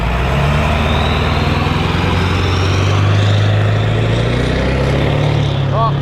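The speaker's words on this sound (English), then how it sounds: "And that's a diesel truck, a very loud diesel truck." A very loud diesel truck rumbles past close by at a national park, its deep engine roar steady and heavy throughout.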